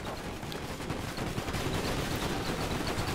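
Cannons fire in the airship strategy game Airships: Conquer the Skies during a siege, a dense, continuous barrage of overlapping booming shots with no pause.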